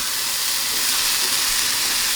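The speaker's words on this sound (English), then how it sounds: "my polenta is boiling now" Polenta boils in a pot on the stove in an oil-free vegan kitchen, giving a steady, close, hissing bubbling rush that holds level without pause.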